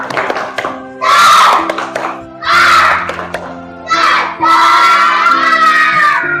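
Classroom children doing the tepuk semangat clapping chant, giving three loud bursts of mixed clapping and shouting as a group, with short gaps between them.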